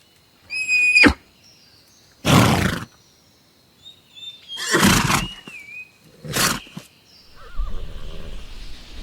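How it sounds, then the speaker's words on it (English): A horse neighs and whinnies in several loud, separate calls spread over a few seconds, with a snort and breathy sounds between them. "horse"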